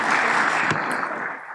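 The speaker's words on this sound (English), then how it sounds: "Please, another round of applause for Paco Shum" An audience at a business summit in Ghana claps steadily in honour of Paco Shum, the applause holding a continuous patter and slowly thinning toward the end.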